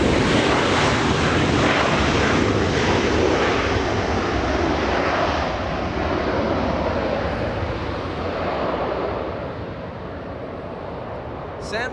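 An Airbus A350-900 airliner at Los Angeles International Airport gives a loud, steady roar of jet engines that fills the whole stretch, easing off slightly toward the end.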